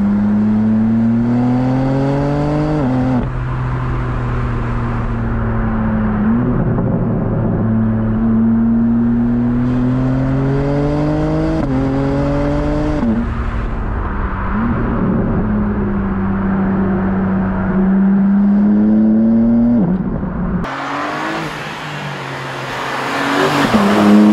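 Engine of a 2023 BMW M2 heard from inside the cabin, loud and sustained as it climbs through repeated gear shifts with rising pitch, then a sudden harsher, brighter roar near the end.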